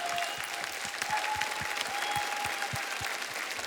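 A studio audience claps steadily for a comedy mimicry act on an Indian TV talent show, a dense, continuous burst of applause heard close, with a faint tone beneath.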